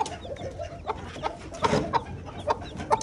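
Chickens and roosters cluck in a series of short, moderately loud calls close by, repeating every half second or so against a steady background.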